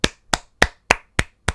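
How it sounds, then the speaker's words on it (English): Six sharp hand claps land in a steady, even rhythm, close and crisp with silence between each. "clapping his hands, by the way, for those of who cannot see what he's doing"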